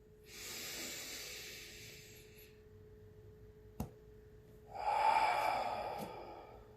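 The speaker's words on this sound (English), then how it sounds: "Take a deep breath with me" Two long, slow breaths, an airy inhale and then a heavier exhale, each lasting about two seconds and separated by a pause with a faint click, close to the microphone and without speech.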